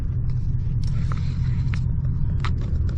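A car recently repaired after a blown-out spark plug runs while driving, a steady, close engine rumble and road drone filling the whole stretch without talk.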